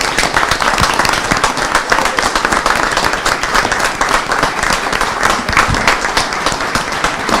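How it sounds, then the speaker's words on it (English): A city council meeting audience gives the fire chief a round of applause, with steady, close clapping from many hands, loud and even throughout and no talk over it. "Can we give one round of applause, and we're going to do another."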